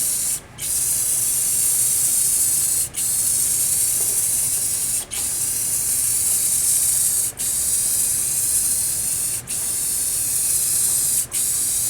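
Bursts of aerosol spray paint hiss in long, even passes over an arcade cabinet for a thin coat, each burst several seconds long with brief gaps between, close and steady, no talk.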